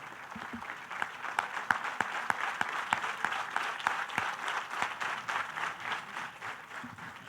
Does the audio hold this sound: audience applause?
yes